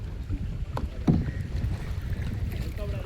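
A kayak is paddled on the sea off Goa, with soft splashes and water lapping against the hull under wind buffeting the microphone, plus a sharper splash of a paddle stroke midway.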